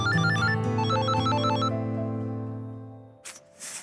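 A mobile phone ringtone plays a bright, repeating electronic melody for about three seconds, close and clear, then fades out, followed by a brief rustle and a short burst of noise at the end.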